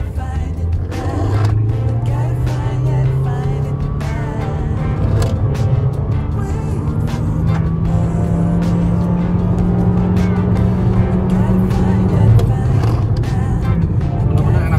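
A 2022 Honda HR-V E CVT cruises at higher speed, a steady interior drone of road and engine noise with a rising hum that holds, then drops near the end.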